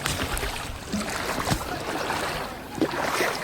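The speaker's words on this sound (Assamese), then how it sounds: "নাও পঠিয়াই দিলোঁ নাওখন গৈ আছে" A boat moves slowly through floodwater, with soft water swishes, paddle-like splashes and faint wind noise, fairly quiet and continuous with a few brief louder sloshes.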